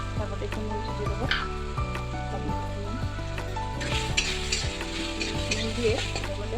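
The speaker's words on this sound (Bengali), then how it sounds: "টমেটো কুচানোগুলো একটু ভাজা ভাজা হয়ে এসেছে, তার মধ্যে একটু নুন দিয়ে দেবো।" Chopped tomatoes frying without oil or butter in a pan for paneer butter masala give off a soft, continuous close sizzle with occasional stirring noises, over a steady tonal music bed.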